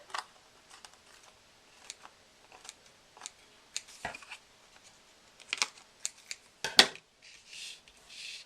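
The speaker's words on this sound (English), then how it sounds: "Then I can take my scissors." Small craft scissors trim lace across a handmade greeting card, giving a series of sharp, close snips and crisp paper rustles at an irregular pace, with quiet gaps between cuts.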